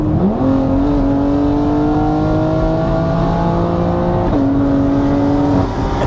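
A modified 800 bhp meth-injected BMW X3M Competition revs hard, its deep engine tone climbing to a high-pitched howl, holding steady, then rising again in a second sustained rev, loud and close throughout.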